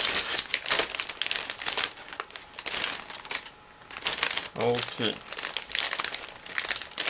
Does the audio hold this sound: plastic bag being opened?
yes